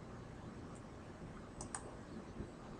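Faint, sparse mouse clicks in OPNET network simulation software, a couple of light ticks close together in a quiet room, with no voice.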